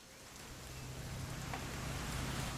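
Steady rain hiss in the video game What Remains of Edith Finch, a soft continuous wash of falling water that swells slightly and holds at a constant, fairly quiet level with no voices.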